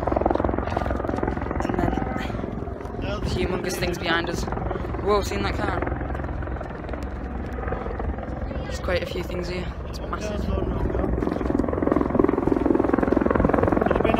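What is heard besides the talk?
helicopter overhead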